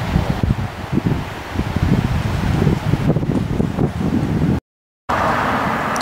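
Strong wind buffets the camera microphone on a windy roadside near Christchurch, a loud continuous rumbling roar with gusty surges, then a brief dropout before the blast returns.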